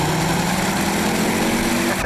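Ford Focus RS engine running steadily with a buzzy, high-pitched drone and a constant loud tone, close and alone with no talking.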